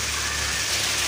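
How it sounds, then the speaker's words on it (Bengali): Heavy rain pours steadily outdoors near a duck and pigeon-keeping area, a dense continuous hiss at close range with no voices. "এই যে জোরে বৃষ্টি নেমে গেছে"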